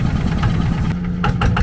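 A long-tail boat engine chugs steadily up close off Koh Lipe, Thailand, with a low, rough throbbing and faint knocking running throughout and no voices.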